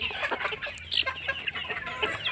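Laying hens on a poultry farm cluck and chatter close by while feeding on leftover khichuri with rice and wheat, a busy overlapping stream of short calls.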